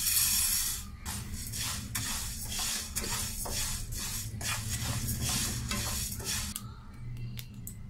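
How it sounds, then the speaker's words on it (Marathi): Fenugreek seeds roasting in a pan over low heat, with a steady dry sizzle and repeated scraping strokes of a spoon stirring against the metal, close and continuous, with a few light clinks near the end. "मेथी आपली भाजून झाली आहे"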